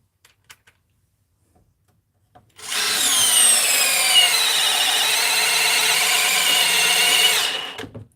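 A DeWalt power drill boring a 6-inch hole through wood, a loud steady grinding whine starting after a few faint taps and holding for about five seconds before cutting off.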